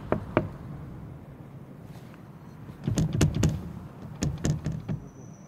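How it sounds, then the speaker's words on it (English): Knocking on an office door, heard as a few sharp raps near the start and then clusters of firmer knocks. The knocks are close and stand out over a low background hum. "So we're just going to have to knock on the door."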